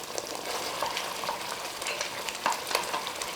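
Spinach mutton cooking in oil in a pan, a moderate steady frying hiss with occasional spatula scrapes and light clicks as it is stirred, fairly quiet and close.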